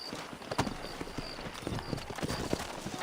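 Horse hooves clip-clop in Red Dead Redemption, a steady walking rhythm of close, distinct hoofbeats over soft ambient game sound, quiet overall.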